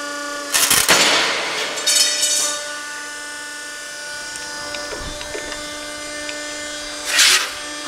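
A 100-ton Scotchman dual-operation ironworker (DO-100-24) runs with a steady hydraulic machine hum, punctuated by a few sharp bursts as the shear cuts a metal piece, close and fairly loud.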